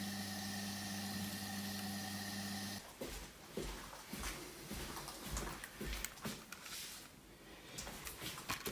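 A Dynacord Echocord Super 75 tape echo's steady low motor hum drones alone, then gives way to a rougher scraping, tape-rubbing noise with scattered soft clicks and knocks.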